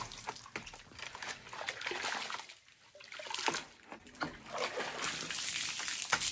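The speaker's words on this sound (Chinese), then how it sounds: "先把拖把给洗一下。" A mop being rinsed in water in a rural home, with faint sloshing, trickling and splashing in uneven bursts, fairly quiet and close.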